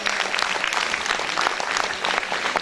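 An audience claps for teachers at a gathering honouring them, a sustained patter of many hands, moderately loud and fairly near, running the whole time without a break.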